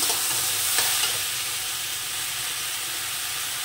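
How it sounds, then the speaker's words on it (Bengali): Half-boiled ash gourd is stir-fried in a pan, giving a steady, close sizzle and hiss with light scraping and stirring. No voices. "আমার চাল কুমড়োটা হাফ বয়েল হয়ে গেছে, এভাবে কষে নিয়েছি।"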